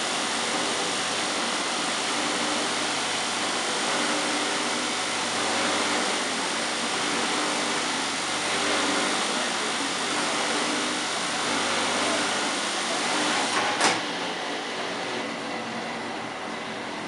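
A 1986 Hotpoint Supermatic Plus 9400 twin tub washing machine pumping out water gives a steady, loud, continuous whir with a constant drone, unchanged throughout apart from one brief click near the end.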